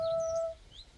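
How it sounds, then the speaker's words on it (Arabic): Birds chirp in a garden on a sunny day, with a sharp whistle-like tone at the start and a few faint tweets after it, quiet and at a distance. "طبعا هنا اكو احلى صوت عصافير"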